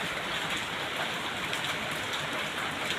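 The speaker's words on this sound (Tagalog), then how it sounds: "Ulan-ulan." Steady rain falls during stormy weather near an outdoor parking area, a constant even hiss of drops on surfaces, fairly soft and unbroken, with no talking.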